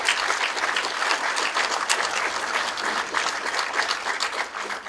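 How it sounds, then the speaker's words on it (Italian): Applause at the Odoo Italia Awards: a hall audience claps steadily and fairly loudly for the whole stretch, a dense even patter with no talk over it. "Facciamo un applauso."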